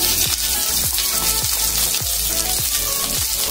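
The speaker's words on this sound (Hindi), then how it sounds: "तेल गरम हो चुका है, अब हम डालेंगे कटा हुआ प्याज" Chopped onion frying in hot mustard oil for a Maharashtrian egg curry, with a steady broadband sizzle and a regular scraping stir repeating about every half second, close and loud with no talk.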